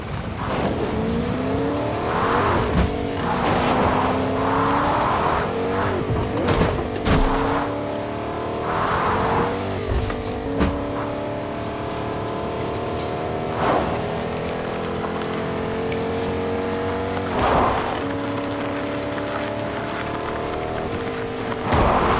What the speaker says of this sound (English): I heard you in a car